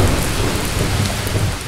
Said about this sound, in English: you can almost feel the rain hammering down